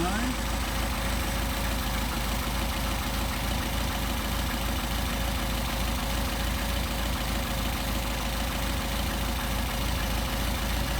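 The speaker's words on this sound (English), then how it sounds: "You also notice the engine's not loading up, so the carburetors are not running rich and not doing anything they're not supposed to." A Mercedes 190SL engine fitted with Solex carburetors runs at a steady, even idle, a continuous low rumble with rhythmic firing pulses held close and loud for the whole stretch.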